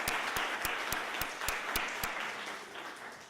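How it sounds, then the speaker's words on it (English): An audience applauds, a moderate wash of clapping with a few sharp, evenly spaced louder claps standing out nearby, tapering slightly toward the end. "so I want to give them all a big round of applause."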